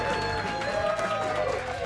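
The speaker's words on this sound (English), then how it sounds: "It sounds like there's 300 people here." A live studio audience at an Atlanta news and talk radio broadcast keeps up a steady, dense crowd roar of cheering and chatter, close and continuous without a break.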